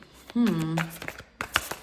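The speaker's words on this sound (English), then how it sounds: "I shuffled this deck really good" A deck of tarot cards is shuffled in quick riffling bursts, close and crisp, while a person speaks over it.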